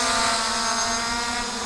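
An MJX Bugs 3 Pro GPS drone hovering and rotating in place outdoors, its propellers giving a steady, fairly loud whirring buzz with a constant tonal hum throughout.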